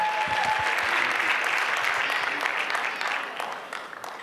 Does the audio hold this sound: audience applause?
yes